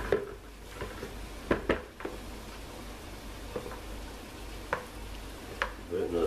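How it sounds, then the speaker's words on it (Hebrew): A spoon scrapes and clicks in a bowl as a seasoning mixture for homemade sausages is stirred: sparse, quiet scrapes and taps at an irregular pace over low background hiss, with no talk. "טוב, הגיע הזמן לערבב את הכל יחד,"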